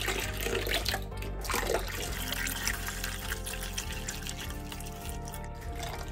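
Four litres of room-temperature water pour for a batch of homemade liquid soap, a full, continuous splashing flow heard up close with no talking.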